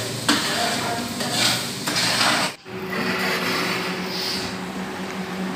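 Chicken cooks in a pan with masala, giving a steady close sizzle with scraping and stirring rasps throughout.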